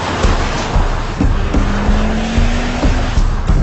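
A Ford Focus RS500 accelerating on a racetrack, a loud engine note rising through a gear pull with a brief shift near the end, heard up close under wind and road noise.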